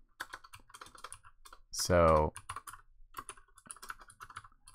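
Typing code on a computer keyboard, rapid close key clicks throughout, briefly interrupted by a loud spoken word in the middle.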